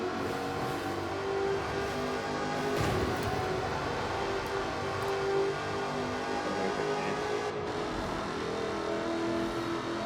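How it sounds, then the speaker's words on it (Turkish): A Jaguar's supercharged 5-litre V8 in Forza Horizon 4 hums and revs steadily, a continuous engine drone with slight swells in pitch, alone without talk. "Powered by a Böyle 5-litre V8 supercharged ana engine"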